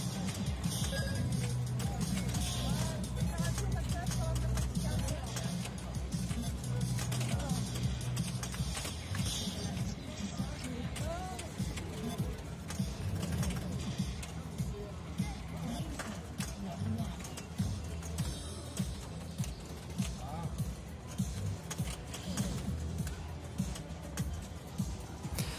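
A Total Nuclear Annihilation pinball machine in multiball play, with constant fast mechanical clatter and thumps running over a continuous low rumble. Game music and effects fill the whole stretch at a steady level.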